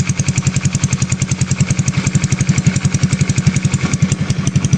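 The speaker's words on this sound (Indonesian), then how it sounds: "Oke teman-teman sendiri cek suara mesinnya." A lightly modified 2009 Yamaha Mio Smile scooter idles steadily close by, its single-cylinder engine giving an even, rapid, thumping pulse with a smooth CVT whir and no talking.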